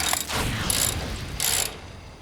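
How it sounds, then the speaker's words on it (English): A ratchet wrench tightening bolts onto the frame head of a Karmann Ghia chassis makes a close, loud, steady ratcheting whir in two quick strokes. "Okay, bolting this on is actually quite easy. It's basically just 4 bolts."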